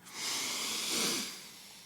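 A deep inhalation during a guided breathing exercise, a steady airy rush lasting under two seconds, close and fairly quiet, with no talking over it.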